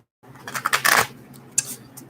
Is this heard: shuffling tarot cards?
yes